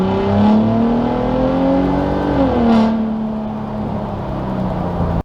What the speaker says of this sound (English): that's interior revving, and this is interior flooring it